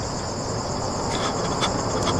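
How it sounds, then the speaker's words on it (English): Steady cricket chirping fills the air, a dense continuous high trill with a few louder pulses near the end, heard alone without voices. "Crickets. Those are crickets."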